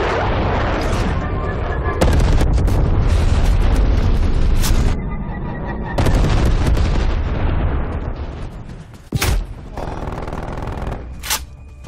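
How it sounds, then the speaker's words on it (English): Napalm strike explosions in Call of Duty Cold War come as a dense run of loud booms and crackling bursts, then break into separate sharp blasts. "Rep, napalm strike inbound."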